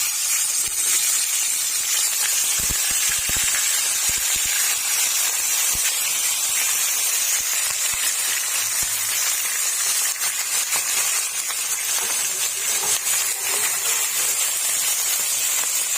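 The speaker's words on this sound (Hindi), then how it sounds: "अब उसी घी के अंदर हम चिकन ऐड कर देंगे।" Chicken pieces frying in hot ghee in a pan for Afghani karahi, giving a loud, steady hiss and sizzle that runs unbroken throughout with no talking.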